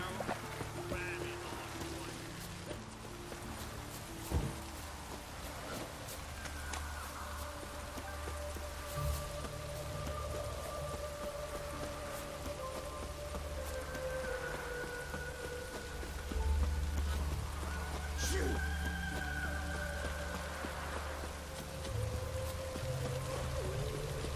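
Rain falls steadily outdoors during a day on the road, a continuous soft hiss with occasional louder drops and low rumbling beneath, moderately quiet and unbroken by talk.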